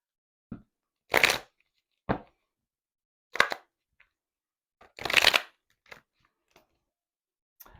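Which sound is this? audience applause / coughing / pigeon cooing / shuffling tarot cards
shuffling tarot cards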